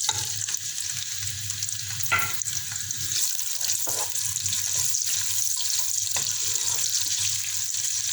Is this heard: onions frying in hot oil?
yes